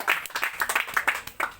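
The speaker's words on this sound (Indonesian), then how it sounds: "Berikan tepuk tangan dulu bagi Tuhan." A church congregation claps in loose, rhythmic bursts, sharp individual hand claps close by and clearly separated, the beats rising and falling over a short stretch.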